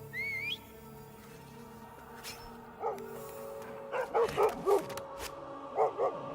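A dog in the Assassin's Creed Odyssey video game gives several short barks and yips in quick bursts toward the end, mid-distance, over quiet game ambience with a brief whistle-like tone at the start.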